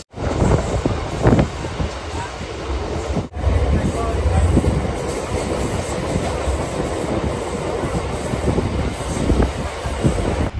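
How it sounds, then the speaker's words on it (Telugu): A train runs through Tenali Junction railway station, a loud, continuous rumble with wheels clattering over the rails. A brief dip in the noise comes early on, and then the roar carries on steadily close by. "మన ట్రైన్ అయితే ఒక 10 minutes లేట్ తోటి తెనాలి జంక్షన్ రైల్వే స్టేషన్ని దాడుతుంది అనమాట"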